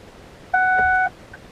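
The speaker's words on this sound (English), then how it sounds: "every time you try and operate it, you'll get this beep." A single clean electronic beep from a Ford GEM module in diagnostic mode, about half a second long, sounds clearly against quiet background noise.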